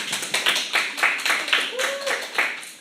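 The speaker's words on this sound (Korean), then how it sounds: "여러분 박수 한번 주시죠" A church congregation claps together in a quick, regular rhythm, each clap close and sharp, with a voice heard over parts of it.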